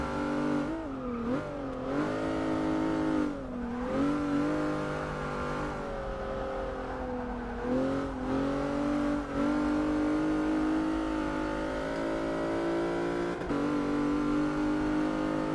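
Car engines rev and climb through gears in the racing game Forza 6 on a track test of a tuned Plymouth Prowler, a steady loud engine drone with rising and falling pitch sweeps and no talk.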